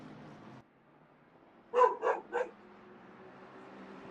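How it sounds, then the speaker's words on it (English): Three quick dog barks in a row, somewhat distant, after a stretch of quiet background hum. "The dogs are barking."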